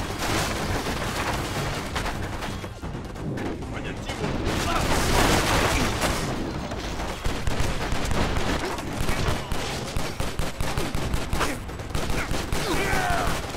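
Constant loud gunfire from the video game Stranglehold: dense overlapping bursts of shots and automatic fire with booms, continuing without a break, while a person talks over the action.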